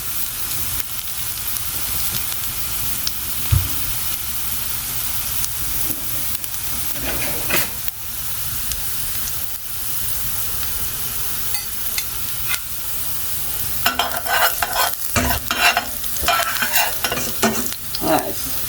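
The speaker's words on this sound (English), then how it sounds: "we add the garlic. We fry them until they are golden brown." Garlic fries in a pan until golden brown for a melongene (eggplant) breakfast dish. A continuous hissing sizzle is broken by occasional spoon scrapes, and the stirring knocks become busier and louder near the end.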